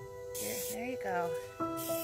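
A can of cooking spray hisses in two bursts of broadband noise, with a voice-like tonal sound running underneath between them.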